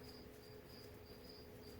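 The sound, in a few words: crickets chirping outdoors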